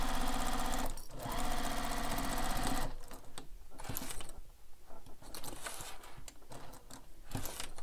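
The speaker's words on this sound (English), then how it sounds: "So I'm there now, and then I backstitch again." A close sewing machine drives a bag seam with a dense, rhythmic needle chatter, halts briefly, then backstitches in shorter stop-start bursts with clicks as fabric is shifted.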